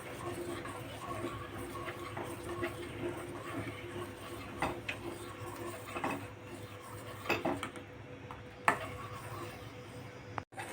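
A spoon scrapes and clinks steadily against a pan while mango ice cream mixture is stirred continuously on the stove, a soft irregular metallic clatter that sounds close and quiet and runs throughout.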